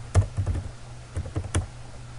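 Keys clack on a computer keyboard while typing into Notepad, a few close, sparse taps and short bursts with no talking.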